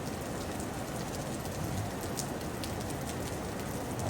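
Heavy rain pouring steadily in Xaisomboun, Laos, as a dense, constant hiss of drops on surfaces, loud and unbroken, with no voices.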